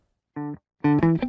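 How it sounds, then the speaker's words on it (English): Two short guitar phrases through a long analog echo delay on a Line 6 POD Go, each burst ringing briefly, the second fuller, moderately loud with no talking. "Now this one, they've pushed the limits of analog echo."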